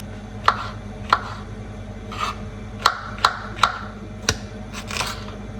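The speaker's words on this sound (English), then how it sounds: "Get dicing up and firing up." A knife dices vegetables on a cutting board, about ten sharp close chops coming at an irregular pace.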